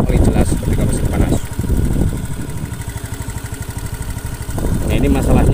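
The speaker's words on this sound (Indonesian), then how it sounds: "suaranya itu kasar sekali, jelas ketika mesin panas." A Honda Beat FI scooter engine runs rough while hot, a loud, uneven, pulsing idle with heavier bursts at the start and end.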